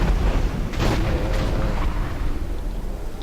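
Artillery fire from Azanite gunners in the game Dungeon Siege III: booming, rumbling blasts with a heavy low-end roll, one strong hit near the middle of a dense, continuous battle din.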